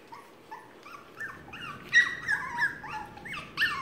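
A litter of twelve 3.5-week-old puppies nursing, letting out a run of close, high-pitched whimpers and short yips that overlap and rise and fall over a quiet background.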